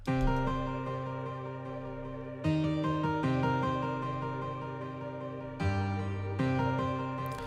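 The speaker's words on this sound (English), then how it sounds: "And then to continue it, I added a pad" Layered synth pad sustains under a plucked guitar-like loop, chords changing every couple of seconds in a steady repeating progression, no voices, for a trap beat in Studio One 4.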